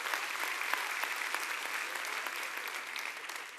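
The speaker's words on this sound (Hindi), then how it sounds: "एक बार जोरदार तालियां" Loud audience applause at an LIC insurance agency awards gathering, a dense, continuous wash of clapping from a sizable crowd that holds steady for several seconds before easing slightly.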